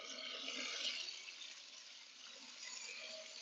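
Water runs from a tap in a steady, soft hiss that is faint and continuous, swelling slightly at the start and again near the end, with no voices over it.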